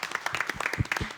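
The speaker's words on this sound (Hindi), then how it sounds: "दानिश के लिए और आसिफ के लिए तालियां।" A studio audience on a Ramadan cooking competition show claps in a brief, uneven burst of separate hand claps, fairly close, lasting about a second.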